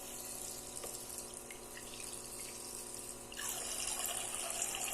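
A toy kitchen sink faucet runs water in a steady, faint trickle that grows a little stronger partway through, with no talking.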